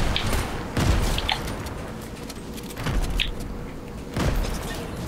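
Grenade explosions go off in Fortnite. Three separate booming blasts come about every two seconds, each a sharp low thud with a brief crackle after it, over steady background game noise.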